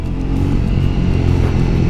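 A Triumph Speed 400 motorcycle at full throttle, its engine a loud, steady, close rumble that keeps pulling hard for the whole stretch with no break.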